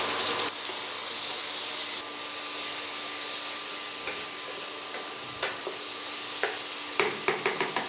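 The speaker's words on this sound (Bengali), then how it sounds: "অল্প জল যোগ করুন এবং মশলা কষান ততক্ষণ যতক্ষণ না তেল ছাড়তে শুরু করে।" Ground cumin and coriander cook in oil with a splash of water, giving a continuous soft hiss and bubbling, with light scraping taps from stirring that grow more frequent toward the end.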